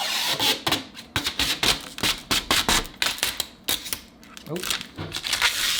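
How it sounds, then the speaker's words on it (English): Protective plastic film peeled off a computer case, a run of sharp crackling, ripping bursts in irregular rhythm, close and fairly loud, with a brief voice. "Take off the plastic."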